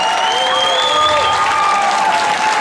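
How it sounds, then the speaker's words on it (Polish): Audience applause following a fourth-place award to a volunteer fire brigade brass band at a provincial brass band festival in Nałęczów, a steady dense wash of clapping with tonal ringing over it, holding at even loudness throughout. "Ogromne brawa."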